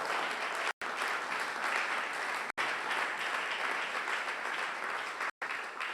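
Loud, continuous applause fills a church during a Sunday praise and thanksgiving service, a dense crowd clapping in sustained bursts broken by a few abrupt cut-outs.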